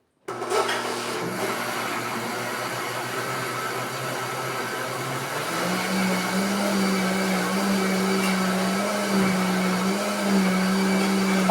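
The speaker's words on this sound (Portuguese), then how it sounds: "Agora a gente vai bater. A etapa aqui do liquidificador é só essa aqui" A kitchen blender whirs steadily while mixing cake batter ingredients for a chocolate-coconut cake, a loud continuous motor drone whose pitch shifts partway through, with no talk.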